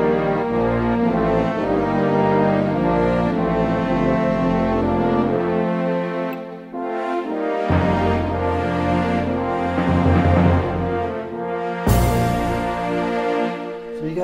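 A Yamaha CVP-909 digital piano plays a layered horns-and-strings voice, sustained rich chords that swell and shift, with a brief drop near the middle and a fresh loud chord toward the end.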